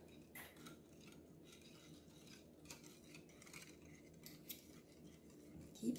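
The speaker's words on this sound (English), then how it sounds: "Keep stirring." A utensil stirs cake batter for a Jamaican Easter bun in a bowl, giving faint, repeated scraping and clinking strokes throughout, quiet and close.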